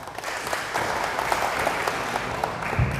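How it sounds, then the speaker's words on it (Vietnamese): Steady applause from a small crowd at a prize-giving ceremony for a lucky-draw motorbike winner at a Honda dealership, clapping evenly for about three seconds with a slight swell near the end. "Và xin cho một tràng pháo tay đi à."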